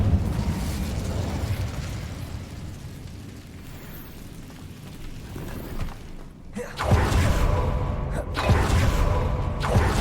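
Incendio fire spell cast in Hogwarts Legacy inside a cave, a low rumbling burst of flame with creaking crackle, then a louder fiery whoosh flaring up near the end.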